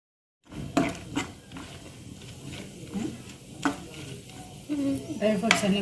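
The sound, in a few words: dry fruits frying in a pan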